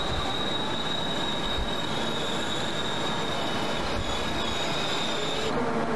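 A train's wheels squeal loudly and continuously at Purwokerto railway station in Central Java, a sustained high metallic screech over rumbling rail noise for several seconds.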